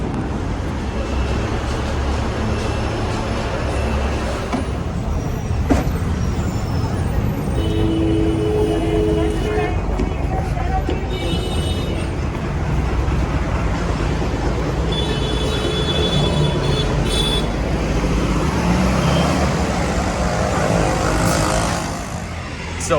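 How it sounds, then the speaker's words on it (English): A crowded city bus moves through Bengaluru traffic, its engine rumble and road noise loud and continuous, with passing vehicles and occasional horn-like tones blending into the dense roar. "So I just got off the bus, which is crowded and full of people"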